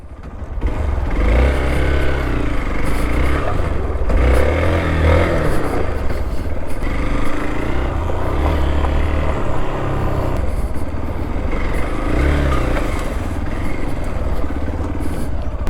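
A Hero Xpulse 200 4V motorcycle engine runs steadily and loudly up close, with a rough continuous drone and mechanical clatter.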